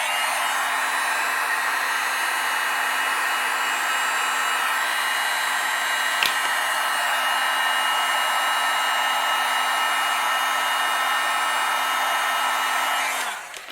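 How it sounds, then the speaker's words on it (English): A heat tool warms embossing powder on a Christmas card, a steady loud fan whoosh with an even hum that runs without pause and cuts off at the end. "what I'm going to do is heat it up and then dip it while it's hot"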